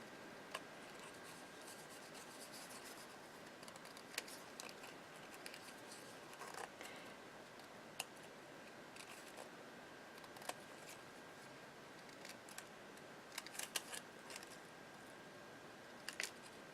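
Scissors cutting a paper flower for a handmade card, a faint run of soft snips and paper rustles with a few sharper clicks, close but quiet, no talking.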